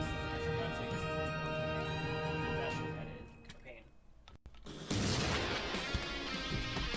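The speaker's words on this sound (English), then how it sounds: "The explosions!" Film explosions bursting loud and full after a stretch of music and quieter sound, with a big, wide roar of blasts filling the last couple of seconds.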